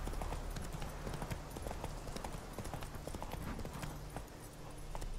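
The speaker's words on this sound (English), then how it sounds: "Not so fast, Roach. Giddy up." A horse gallops in The Witcher 3 video game, its hooves beating a quick, steady clip-clop at low volume over soft background ambience.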